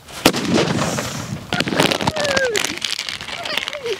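A kaki vedi firecracker goes off in a village: a sharp crack, then a run of crackling bursts and popping snaps with faint whistling streaks, loud and close, while a voice talks in the background.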